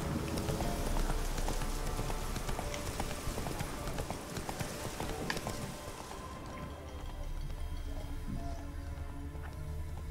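Roach the horse galloping in the Witcher 3 video game, rapid rhythmic hoofbeats pounding close and loud over a dense game soundscape, easing toward the end.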